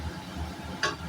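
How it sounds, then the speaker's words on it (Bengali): Masala spices frying and being stirred in hot oil in a home kitchen make a soft, steady sizzle close by, broken by one brief scrape of the spoon against the pan. "আমি মশলাটা কষিয়ে নিই ততক্ষণ"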